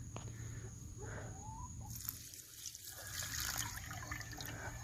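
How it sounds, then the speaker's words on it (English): Water trickles and splashes steadily into an automatic game bird fount waterer, a close continuous running-water sound that grows slightly fuller partway through, with faint birdsong in the background. "So you see it's filling up slowly, but it's filling up."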